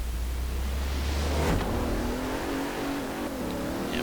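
A Bentley launches and accelerates hard in the racing game Forza Horizon 4, a loud continuous engine roar that climbs steadily in pitch as it gains speed.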